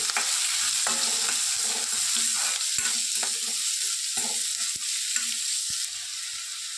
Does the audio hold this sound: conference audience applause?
no